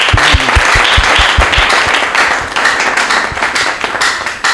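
Loud, close applause from a studio audience on a Lubumbashi talk show, with a dense clatter of hands and some strong individual claps near the start, continuing steadily and thinning slightly toward the end.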